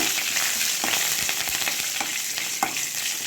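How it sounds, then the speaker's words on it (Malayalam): Mustard seeds tempering in hot oil for a dried-fish curry, giving a steady broad sizzle with scattered sharp pops and crackles throughout, close and fairly loud, with no talking. "ഇനി നമുക്ക് കുറച്ച് കടുക് താളിക്കാം."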